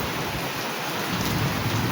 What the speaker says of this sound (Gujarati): અત્યારે વરસાદ ફૂલ બાકાજી બોલાવી રહ્યો છે, તમે જોઈ શકો છો.